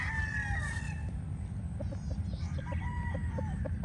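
Brood stag rooster crowing and clucking nearby, a crow at the start followed by short repeated clucks over a steady background murmur.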